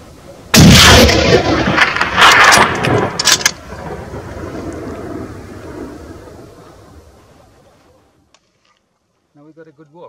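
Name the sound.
rifle shot during a Bezoar ibex hunt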